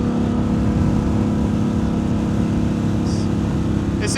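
A 2025 Harley-Davidson Pan America ST engine accelerates in sport mode on a ride around Raleigh, a loud, steady engine drone with heavy wind rush throughout.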